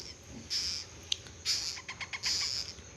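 Young parrot chicks being hand-raised at home give short, high calls in uneven bursts, some brief chirps and a sharp click among them, fairly close over a faint background hiss.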